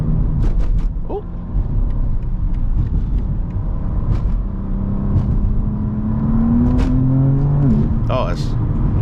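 A BMW G82 M4 engine revs and accelerates, a steady rumbling drone rising in pitch over several seconds, with a voice talking and exclaiming over it.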